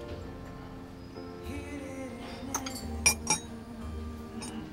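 Wine glasses clink together in a toast, a few bright chiming taps near the middle, over a quiet room with faint background sounds and no clear talk.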